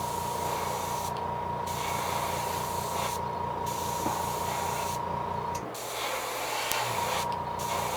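An airbrush sprays paint coats onto a black blank fishing lure, a steady close hiss running without a break, with a faint hum under it and no talking.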